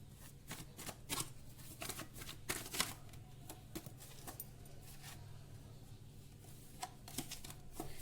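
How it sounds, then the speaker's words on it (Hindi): Tarot cards shuffled by hand, a run of quick papery riffles and soft slaps as cards spill and drop, close and moderately quiet with no talking. "कार्ड्स बहुत बहुत ज्यादा गिर रहे हैं"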